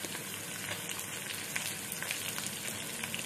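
Onion and dried red chillies frying in oil for a chickpea tempering make a dense, even sizzle, close and continuous, like light rain, with soft crackles as they are stirred.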